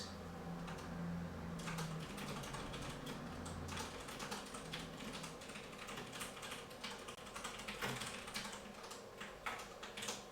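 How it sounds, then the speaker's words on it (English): Rapid clicking keystrokes on a computer keyboard close to the microphone, an irregular busy rhythm with occasional sharper key hits over a faint low hum, no voices. "You can very loudly hear my keyboard."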